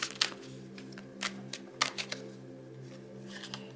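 Tarot cards are shuffled and drawn in a series of crisp, papery flicks and slaps, several separate bursts spread across the span, close and fairly quiet over a steady low hum.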